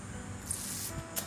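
Short hissing puffs of WD-40 penetrating oil sprayed from an aerosol can onto bolts on a John Deere Model 10 trailer, two brief bursts over a steady background hum.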